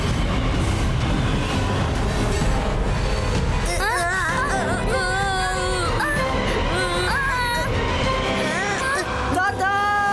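An animated train rushes along amid a busy cartoon soundtrack, a constant loud rumble mixed with music and shifting whooping tones, with voices talking over it.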